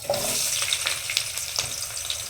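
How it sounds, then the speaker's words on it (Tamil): Onions sizzling in ghee for a vegetable biryani, a steady close crackle and hiss with small pops and stirring scrapes throughout. "நெய் சேர்த்ததுக்கப்புறம் வெங்காயம் போட்டு நல்லா ப்ரௌன் கலரில் வதக்கி எடுத்துக்கலாம்"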